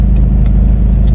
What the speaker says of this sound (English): We have the truck idling